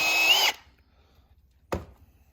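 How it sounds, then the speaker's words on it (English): A power drill with a 7/16 bit bores a hole for a turn signal mount on a hand shield, one loud short burst of whirring that stops abruptly, followed by a single knock and quiet. "So we're gonna take the 7/16 bit."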